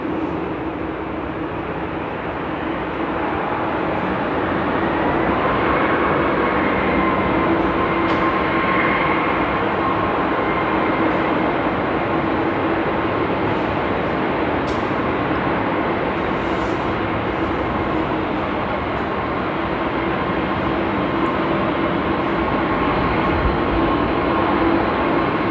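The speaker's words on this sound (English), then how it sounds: "it's the first time I see the A380 taxi this quick" An Airbus A380 taxis at Amsterdam Airport, its engines producing a steady loud roar with a faint tonal whine held throughout, continuous and unbroken with no voices.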